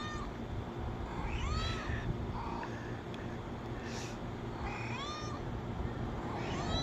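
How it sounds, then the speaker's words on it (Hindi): A cat's meow played from a mobile phone: several drawn-out, wavering meows come in separate bursts over a constant background hiss. "उधर फ़ोन रख के आया, उधर बिल्ली का साउंड निकल रहा है वहाँ से"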